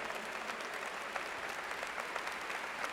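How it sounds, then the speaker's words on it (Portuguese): An audience in a church claps together in dense, sustained applause, steady and moderately loud across the whole moment with no voices over it. "Uma salva de palmas para o nosso Pai"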